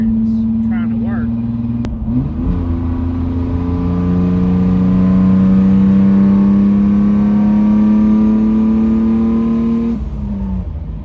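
A Ford Thunderbird Super Coupe engine held at a raised, steady rev for several seconds, loud and close, with a brief dip near the start and the revs dropping off at the end; a voice speaks over it early on.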